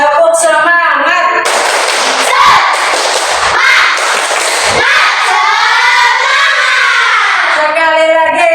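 A class of students claps together in a rhythmic spirit clap, loud and close, with voices chanting and shouting along.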